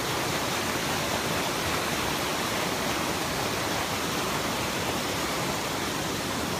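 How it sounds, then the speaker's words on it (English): Punyaban Waterfall roars from its top, a dense, loud, unbroken rush of falling water that fills the whole stretch with no other sounds. "I'm literally at the top of the waterfall."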